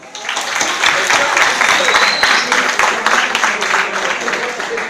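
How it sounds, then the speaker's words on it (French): Audience applause at a quiz contest during an anniversary celebration, a loud sustained burst of many hands clapping close by, with voices and cheers mixed in. "On applaudit."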